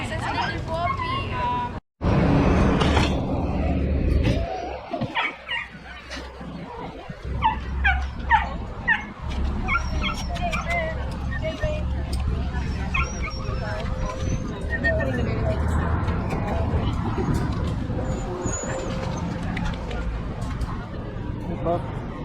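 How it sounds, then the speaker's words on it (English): A small foster puppy whimpers and yips in short high bursts, close by, under near-continuous conversation from several people in a busy indoor setting. "It's a little puppy."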